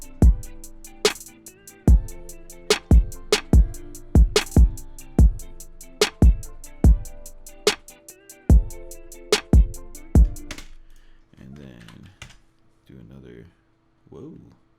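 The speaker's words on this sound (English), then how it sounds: "On this snare, I'll do a 32 note roll." Programmed snare drum hits in Studio One play back at a steady beat, with fast 32nd-note rolls among them, loud and alone for about ten seconds. A voice speaks briefly afterward.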